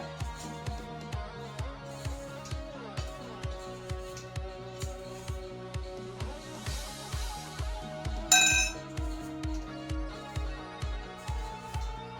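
A spoon stirs soya chunks in a pan after milk is poured in, making a steady, rhythmic series of clinks and scrapes against the metal about twice a second, close and moderately quiet, with one brief louder knock partway through.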